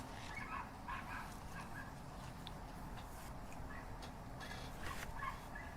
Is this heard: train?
no